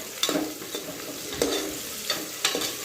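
Capsicum frying in a pan for khichdi, with a continuous sizzle and several sharp stirring scrapes spaced about a second apart. No voices.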